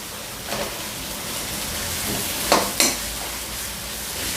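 Two sliced onions dropped into hot oil while cooking goat intestine pepper fry, giving a steady sizzle with two brief louder bursts near the middle; no talking.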